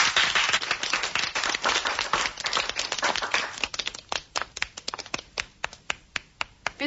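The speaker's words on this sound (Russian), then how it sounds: "Давайте похлопаем друг другу." A small group of office colleagues applauding one another, dense clapping at first that thins into a few scattered, separate claps at the end.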